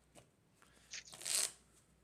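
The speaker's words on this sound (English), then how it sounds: "once I'm done shuffling" A deck of Magic cards being shuffled by hand in a quiet room, soft taps building into a short riffling burst near the end, faint and close.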